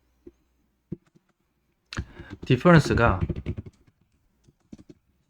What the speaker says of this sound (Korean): 텍스트로 타이핑 할게요